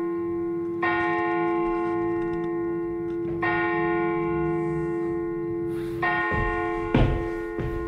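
Church bells ring loud and close inside a tower belfry, a sustained metallic hum with bright overtones and fresh strikes every few seconds, plus heavy thumps and knocks of the bell mechanism toward the end.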